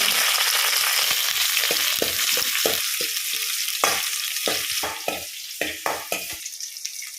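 Onion, curry leaves and dry red chilli fry in hot tempering oil for a sambar, giving a steady loud sizzle broken by a run of sharp spatula scrapes and taps against the pan, with no talking.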